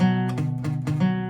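A few quick guitar strums ring out, slightly muffled and uneven, with some strings sounding dull and buzzy.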